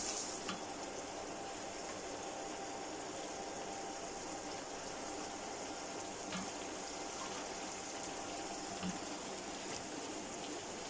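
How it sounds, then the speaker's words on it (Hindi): Soaked eggplant pieces hit potatoes frying in spices, giving a loud, steady, dense sizzle with faint crackles that carries unbroken throughout. "अब मैं इसमें बैंगन डालती हूँ"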